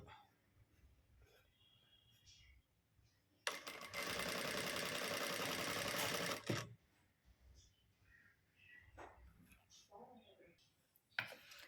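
An electric sewing machine stitches a blouse in one loud, steady burst of about three seconds, close by. Quieter speech comes before and after the run.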